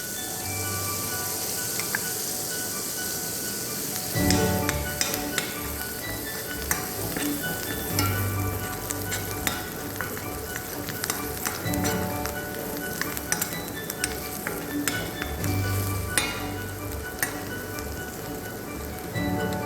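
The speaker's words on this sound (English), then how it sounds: "We'll let the garlic saute." Garlic sautés in melted butter for a cream of spinach soup, producing a constant close sizzle with occasional spoon taps and stirring clinks over the full stretch.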